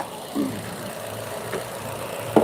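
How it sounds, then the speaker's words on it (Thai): A car's 1.6-litre engine idling just after starting, a low steady hum with faint clicks, heard close and fairly quiet with no talk. "นี่ฮะสตาร์ทอยู่นะฮะ เครื่องนิ่งกิ๊บเลยครับ เครื่องพันหก"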